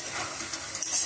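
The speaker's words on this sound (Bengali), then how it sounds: "দেশি মুরগির মাংস হতে একটু সময় লাগে বন্ধুরা, এবং এটা সেদ্ধ হতেও সময় লাগে, তাই একটু সময় নিয়ে ভাজবেন।" Desi chicken meat frying in a pan, a brief close hiss of sizzling oil with faint stirring.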